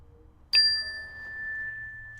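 A single bright bell or chime is struck once in a children's yoga class, ringing out clearly and sustaining a long, pure tone that slowly fades in a quiet room.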